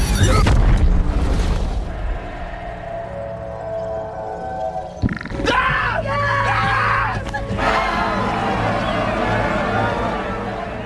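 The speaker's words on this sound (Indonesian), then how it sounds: "handphone tersebut kemudian meledak bersama dengan Wolfgang serta pesawatnya" A loud, booming explosion from a scene in the film Iron Sky: The Coming Race, a phone blowing up along with an aircraft, erupts at the start, then rumbles on and fades under shouting and screams, with a second heavy hit midway.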